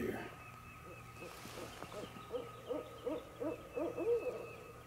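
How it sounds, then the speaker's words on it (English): A mating pair of barred owls hoots back and forth in the Florida woods during turkey season, a series of rhythmic, throaty calls building in the second half, fairly close over a quiet hum. "Mating pair of barred owls."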